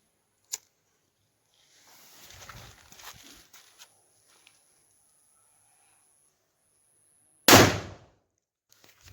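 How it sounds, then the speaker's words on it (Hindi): A village firecracker set off the day after Diwali, one loud sharp burst late on after a small pop and some faint rustling and scuffing, heard outdoors fairly close. "देख चलो बाण फुटेगा"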